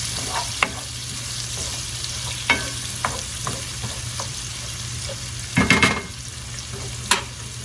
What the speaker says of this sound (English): So soften these onions, and then we're gonna add garlic.